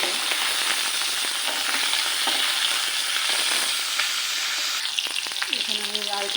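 Pomfret fish frying with onions and spice paste in hot oil, a steady dense sizzle throughout with stirring and scraping toward the end, no voices.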